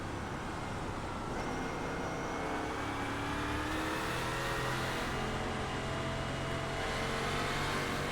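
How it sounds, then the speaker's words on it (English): A Euro NASCAR V8GP race car engine in the iRacing video game on a wet track, revving up and easing off as the throttle is feathered through a corner, loud and steady throughout with no talk. "Kind of feathering the throttle through this corner."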